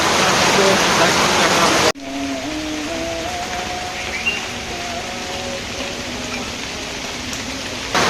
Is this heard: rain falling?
yes